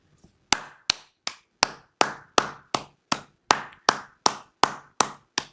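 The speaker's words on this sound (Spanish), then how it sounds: "Aplausos, muchachos." Slow, evenly spaced clapping from what sounds like a single person, about a dozen crisp, close hand claps at a steady rhythm, with no talking.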